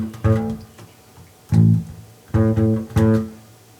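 A bass guitar plays a slow, regular funk line: four plucked, full-bodied low notes in an uneven rhythm, each ringing briefly before the next, loud and alone.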